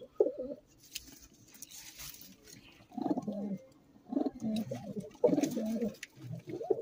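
Pigeons cooing up close in low, throaty bursts, a short coo at the start followed by a longer run of rolling coos after a quiet pause.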